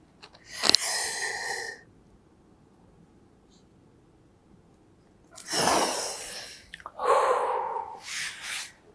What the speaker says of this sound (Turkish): Bir tane nefes al büyük. Ver nefesini.